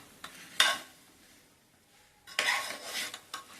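Masala rice stirred with salt and chili powder in a pot, two scraping, sizzling bursts of a spoon moving through the rice, close by and without talk.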